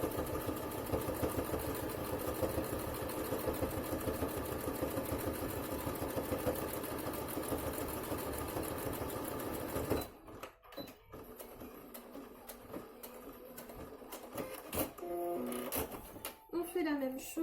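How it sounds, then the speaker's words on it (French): A sewing machine runs a steady rapid stitching chatter while topstitching near the bottom edge of a fabric face mask, then stops and gives way to handling noises, with a person talking throughout. "On fait la petite surpiqûre tout en bas"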